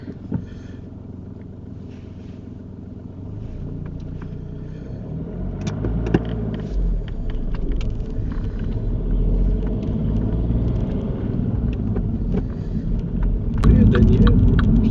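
Car driving during a driving test, a steady low engine rumble and road noise heard from inside the cabin, swelling slightly as it pulls away and gathers speed.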